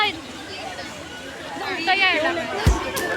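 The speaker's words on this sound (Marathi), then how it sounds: "गर्दी बघा गाईज, किती गर्दी आहे." A dense crowd fills Empress Garden, a public garden in Pune, with continuous overlapping babble of many voices chattering at a steady level. A brief sharp knock rings out near the end.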